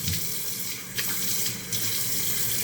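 Bathroom tap water running into a sink while a face is rinsed before shaving, a steady close splashing hiss with a few brief louder splashes.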